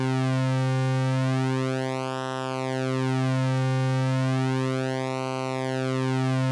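A synthesizer holds one steady buzzy tone while LFO modulation slowly sweeps its brightness up and down in two smooth, even cycles, loud and continuous throughout.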